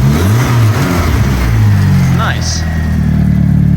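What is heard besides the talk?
BMW E36 engine starting and revving after cranking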